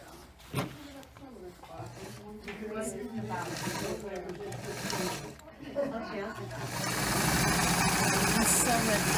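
Sewing machine stitching a seam on a pillowcase dress, a steady motor whir that grows louder and continuous toward the end, with someone talking over the first part.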